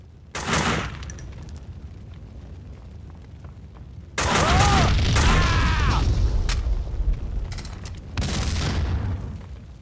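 Several booming explosions in the PC game Max Payne 2 burst one after another with crackling debris and rumble, separated by brief quieter gaps.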